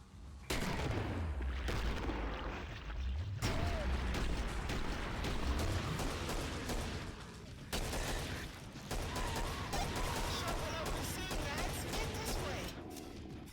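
Gunfire in the video game Killing Floor: a dense run of loud, overlapping shots and booms with continuous game effects throughout, with talk mixed in.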